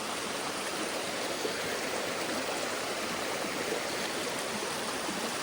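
River water flows steadily over rocks at the base of Amicalola Falls in Georgia, a continuous full rushing wash that stays even and close for the whole stretch, with no voices.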